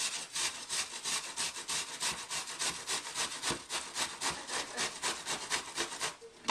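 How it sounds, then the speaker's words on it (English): Onion rubbed against a large grater for meatballs, a steady run of rapid rasping strokes that stays close and loud throughout with no talking. "the easiest way to make your onions the right consistency is to grate them with a large grater"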